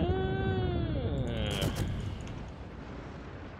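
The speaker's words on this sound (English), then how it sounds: "Decent hit there on Akizuki with AP salvo, now following it up with an HE salvo" In World of Warships, a high-explosive naval gun salvo strikes the destroyer Akizuki in one loud, booming impact, with tonal game effects fading into a rumbling tail.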